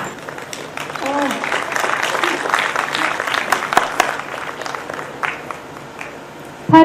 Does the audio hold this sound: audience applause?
yes